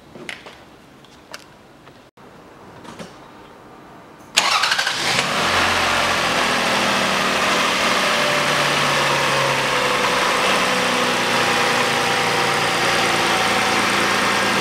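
A 2004 Toyota Harrier MCU30 after throttle body replacement: a few faint clicks, then the engine cranks and starts abruptly, settling into a loud, steady close idle.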